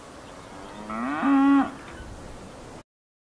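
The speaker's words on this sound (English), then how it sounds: "cow" A cow gives a single clear moo, rising and then falling, heard alone against quiet background noise before silence.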